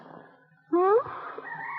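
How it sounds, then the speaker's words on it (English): A rooster crow used as an alarm sound effect rings out once as a loud, rising, harmonic call lasting about a quarter second, set between stretches of talk. "Turn that rooster off."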